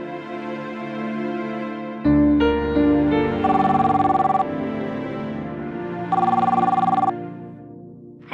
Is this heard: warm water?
no